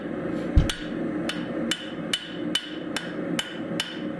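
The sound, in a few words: hammer forging metal on the edge of an anvil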